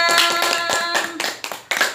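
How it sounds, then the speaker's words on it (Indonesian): A few people clapping in uneven bursts over a sustained musical tone, the claps sharp and close but short-lived. "Tepuk tangan untuk kita semua."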